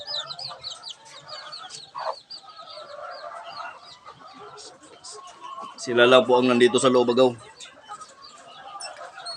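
A mother hen with her five-day-old chicks, kept apart from other chickens, clucks and peeps close by while someone talks over it, with a louder burst of hen calls near the middle.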